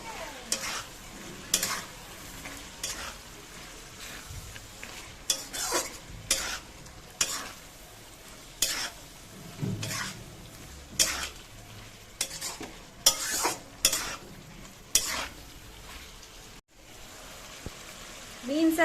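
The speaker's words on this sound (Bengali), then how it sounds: "সমস্ত বিনস দিয়ে এটাকে নাড়াচাড়া করব ভালো করে ভাজা ভাজা করবো" Beans stirred and fried in a pan give a continuous soft sizzle, broken by regular, close scraping and clattering strokes of a spoon against the metal, with brief gaps between bursts.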